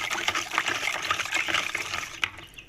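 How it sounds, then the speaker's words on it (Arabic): Water is poured into a homemade pickle mixture as a continuous close splashing gush that runs for a few seconds, ending with a few softer drips and splashes. "هنجيب شويه ميه ويا حبايبي هنحط كده كمان شويه ميه."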